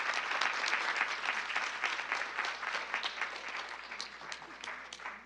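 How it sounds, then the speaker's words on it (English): A board of education meeting audience applauds a school team, with dense steady clapping filling the room throughout before thinning slightly at the end. "So let's give the Ward team again another round of applause."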